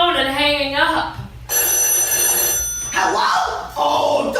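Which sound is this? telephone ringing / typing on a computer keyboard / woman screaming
telephone ringing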